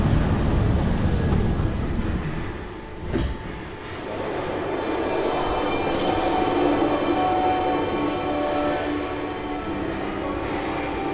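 London's small underground Mail Rail train rumbles along steadily on its rails beneath Mount Pleasant sorting office, with a squeal of wheels partway through and a rattling, echoing hum throughout.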